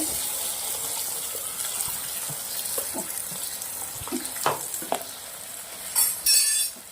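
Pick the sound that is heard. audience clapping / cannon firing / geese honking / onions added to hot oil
onions added to hot oil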